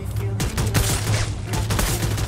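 Rapid bursts of Free Fire video game gunfire crack in quick succession, sharp and loud, with a brief voice underneath.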